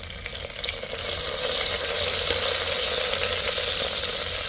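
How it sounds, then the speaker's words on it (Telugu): Red chillies frying in hot oil with mustard seeds, a steady close sizzle that swells and then holds constant, with soft stirring and no talk. "ఇప్పుడు రెడ్ చిల్లీ వేసుకోవాలి. ఇది ఆయిల్లో వేగిన తర్వాత"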